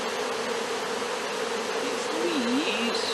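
Honey bees buzzing steadily around a hive during installation of a swarm, a continuous close insect drone with faint background sounds throughout.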